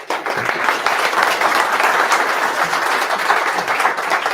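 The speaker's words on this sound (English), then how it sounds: "Please, warm round of applause for Harris." An audience at a tech meetup gives a speaker a warm round of applause, a loud, dense, continuous clapping that holds steady from start to finish.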